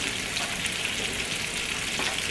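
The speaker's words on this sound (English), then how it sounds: "Shouldn't take long for these steaks to cook up." Steaks frying in a pan on a home stovetop, a steady bright sizzle and crackle filling the short stretch, close and constant with no talking.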